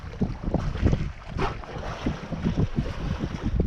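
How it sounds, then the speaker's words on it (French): An Aloa 27 sailboat crossing the Bay of Biscay under sail, with gusting wind buffeting the microphone, water sloshing and splashing along the hull, and irregular low thumps as the boat moves through waves. "Après quelques heures de pétole, le vent nous porte enfin."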